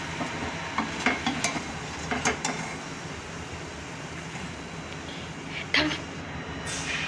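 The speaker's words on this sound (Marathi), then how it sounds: "हे बघा अशा पद्धतीने तळून द्यायचे, मस्त तळलेले आहे" Pakoras deep frying in hot oil give a steady low sizzle, with a few scraping stirs near the start and a sharper clink toward the end.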